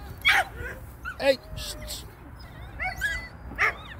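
A dog fetching a catapult shot gives several short barks and yips with whimpers in between, close by and spaced irregularly, while a person briefly hushes it.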